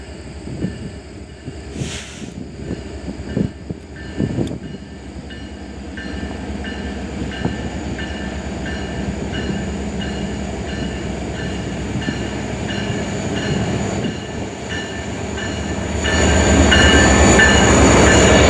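A BNSF local freight hauled by two ex-Santa Fe switcher locomotives rolls past on the Creston Subdivision, a steady rumble with rail clatter building in loudness toward the end.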